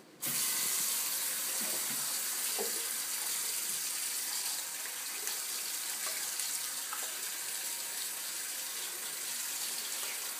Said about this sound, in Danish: Så skal den her lige vaskes.